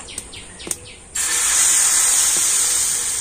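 Dosa batter hits a hot, lightly oiled griddle and erupts into a loud, steady sizzle that holds to the end, after a couple of soft clinks.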